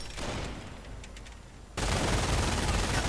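Gunfire from an MG42 machine gun set up by Panzer Grenadiers in a wartime strategy video game: a dense, continuous rattle of shots that swells suddenly louder partway through, filling the mix alone with no talk.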